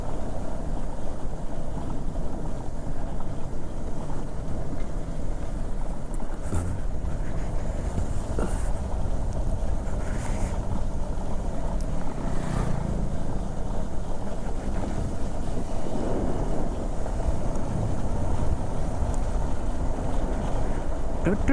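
A motorcycle engine hums steadily while riding through the hills between Darjeeling and Gangtok in Sikkim, a continuous low rumble blended with heavy wind buffeting the microphone.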